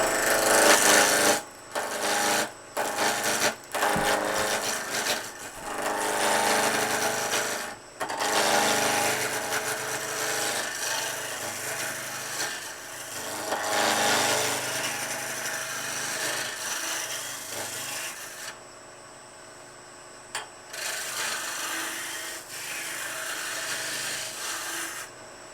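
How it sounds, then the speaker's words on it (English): A woodturning scraper takes a peeling cut on spinning wood on a lathe, a loud rasping, scraping drone with short breaks where the tool lifts off, close and continuous with no talk. "I'm going to start on the edge and nibble my way in, and standard peeling cut procedure"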